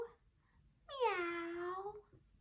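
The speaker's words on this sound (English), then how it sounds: "What does a cat say? Meow." A single clear, drawn-out cat meow, close and alone against a quiet background.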